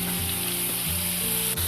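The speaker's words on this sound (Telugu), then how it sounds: "వేసేసుకొని కొంచెం కలర్ మారే వరకు వేపుకోవాలండి ఉల్లిపాయ ముక్కలు." Chopped onion pieces fry in hot oil with cumin for an egg masala, a steady close sizzle broken by a few stirring scrapes, with no voices.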